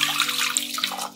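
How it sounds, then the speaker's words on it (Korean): Water splashes and gurgles as it is poured into a pot, a short steady stream of liquid noise. "냄비에 물을 붓고"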